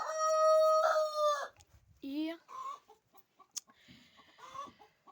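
Chickens in a muddy, rain-soaked yard give a loud crow-like call up front, followed by scattered clucks and short calls, with a brief voice in between.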